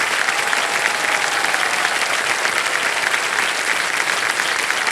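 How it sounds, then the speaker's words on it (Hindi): Steady, loud studio audience applause on the Kaun Banega Crorepati quiz show, a dense unbroken wash of clapping lasting the full five seconds. "तालियां बजती रहें इनके लिए।"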